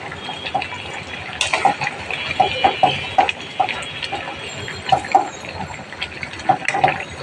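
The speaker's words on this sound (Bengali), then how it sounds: "এবার বন্ধুরা কষানোটা হয়ে গেছে, ঝোলটা দিয়ে দিব।" Water pours into a pot of simmering meat curry to make the gravy, a close rushing splash with liquid bubbling and the clink of a stirring utensil, no voices.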